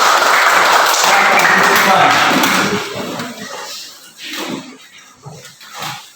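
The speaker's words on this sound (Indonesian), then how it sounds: "berikan tepukan sekali lagi" Students in a classroom give a round of applause, a loud dense burst of group clapping that fades after a few seconds into scattered voices and movement.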